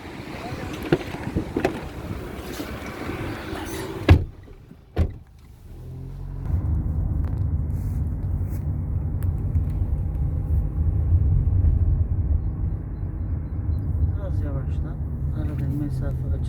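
A car on a 2022 driving test in Çerkezköy pulls away. A couple of sharp knocks come first, then a steady, close engine rumble builds and holds.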